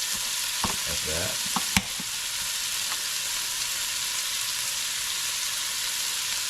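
Canned corned beef fries in a pan with a steady crackling sizzle, broken early by a few scraping stirs and a sharp utensil knock, and a brief spoken phrase.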